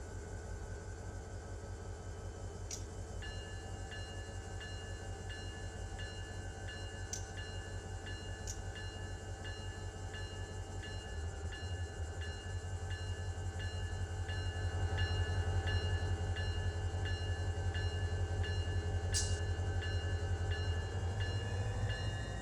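A freight train in the Run 8 simulator rumbles steadily through Southern California rail country toward Barstow Yard, with a constant low drone, brief high squeals, and engine noise that swells toward the end.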